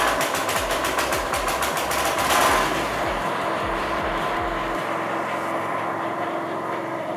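A paddy reaper's small engine, started with a recoil starter, runs with a loud, close, rapid and steady mechanical chugging that holds a fast even rhythm and then eases slightly.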